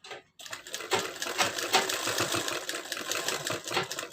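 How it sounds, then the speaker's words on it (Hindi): After a brief silence, a sewing machine runs a fast, steady stitch to sew lace onto an embroidered belt blouse. The rattling is close and continuous. "इस तरह सिलाई लगाते जाना है लेस पे इस तरफ से"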